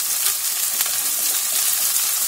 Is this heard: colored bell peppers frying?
yes